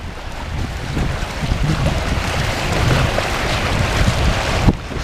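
Choppy Lake Michigan waves wash and splash against the rocks of the Manitowoc North Breakwater, a steady loud surge under gusting wind buffeting the microphone, with one sharper splash near the end.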